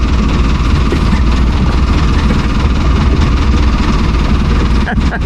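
An engine runs at idle with a loud, steady low rumble and a slight knocking vibration that stays constant, with a brief clatter near the end.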